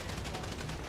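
Gunfire in a multiplayer shooter video game crackles in a short, fast burst of rapid shots, fairly faint and lasting about a second, with no voices over it.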